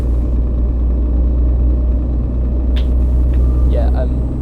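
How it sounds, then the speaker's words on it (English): A truck engine in an Xbox One long-distance delivery driving game runs with a steady, loud low rumble, a few faint higher sounds flickering over it near the end. "Just heard your truck starting up there."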